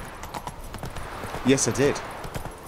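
Horse hooves clip-clop at close range in The Witcher 3, a quick run of steps, while someone speaks briefly over them.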